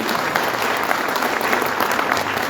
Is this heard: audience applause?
yes